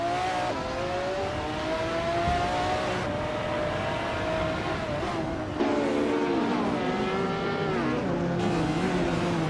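A 1995 McLaren F1 GT race car in a racing video game, its engine droning loud and steady throughout, the pitch rising and dipping with gear changes and revs.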